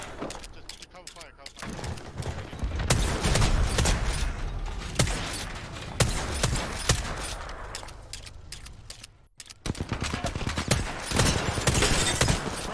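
Rapid bursts of automatic gunfire and shots crack through a video game firefight, near and loud in dense volleys with a short lull, under players' talk.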